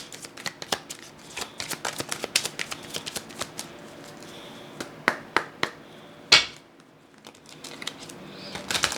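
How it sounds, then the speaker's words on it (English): Tarot cards are shuffled repeatedly in quick riffling bursts and crisp snaps, close up, with brief pauses between rounds and no talking. "Okay, I'm going to shuffle one more time,"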